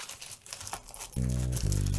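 Cutting into the cardboard of a Digimon Card Game BT09 X Record display box, close crinkling and scraping for about a second, followed by a loud sustained tonal hum that steps up partway through.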